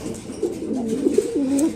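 Black Bombay pigeons coo in low, rolling, throaty phrases, close by and steady, with one longer coo near the end and no talking.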